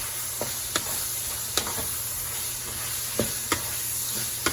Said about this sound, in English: then we just going to fry those up